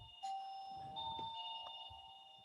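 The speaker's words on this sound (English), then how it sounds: "You guys hear my doorbell?" A doorbell chimes indoors in a few ringing, sustained tones heard from a distance, faint against a quiet room during an online chemical engineering lecture, with nobody speaking.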